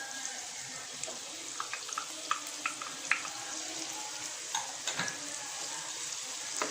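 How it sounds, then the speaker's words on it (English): Onions fry in a pan for spaghetti sauce, giving a constant close sizzle with scattered crackles and light stirring scrapes, no talk over it. "Now you can put the onions."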